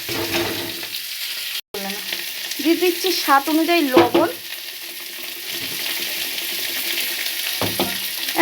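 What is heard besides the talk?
vegetables frying in pan for vegetarian chow mein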